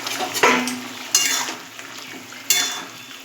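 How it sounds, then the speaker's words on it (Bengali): Masoor dal lentil fritters (bori) go one by one into a simmering curry in a pan, making three distinct soft splashing clunks with a spoon scrape, with no talking between them. "এর মধ্যে আমি বড়িটা দিয়ে দেবো, কারণ ঝোল আরও টেনে যাবে"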